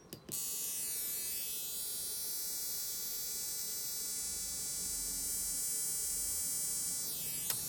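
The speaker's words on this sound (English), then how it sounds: "So again, firing up my ignition tester." An ignition tester running beside a FrSky X8R receiver gives a steady electrical buzzing whine with constant hum, starting after a brief click and droning evenly and faintly throughout.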